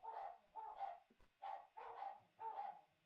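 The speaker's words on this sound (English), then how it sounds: "You guys can hear my dogs barking." Several dogs barking repeatedly in quick bursts, fairly close, with short pauses between volleys.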